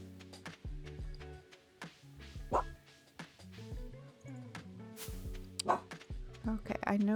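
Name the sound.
dog growling in the background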